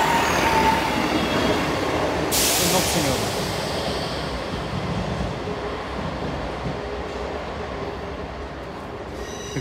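A freight train rumbles past nearby at a level crossing on Lincoln High Street, with rolling wheel noise and a burst of hiss, gradually fading as it moves away.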